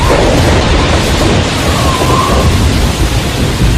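A dense storm ambience of steady heavy rain with deep rumbling wind gusts, loud, close and unbroken throughout.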